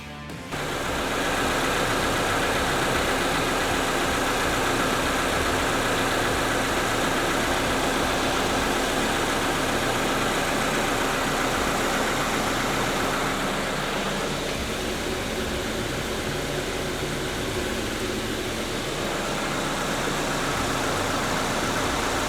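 Subaru Crosstrek engine idling right after an oil change, a steady, continuous drone that holds close and even throughout with no voices, its tone shifting slightly partway through.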